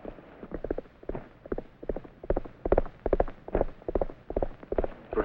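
Hooves of Trigger, a Western film horse, clip-clopping in a steady rhythmic gait, each step a crisp double knock, moderately close and clear with no talk over it.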